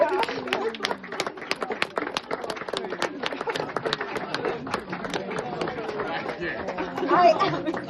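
Guests clap through a round of applause after a birthday speech for a father, dense and steady for several seconds with chatter and voices mixed in.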